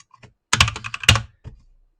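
Fast computer keyboard typing in two short bursts of close, crisp key clicks and a few scattered taps, with no voices.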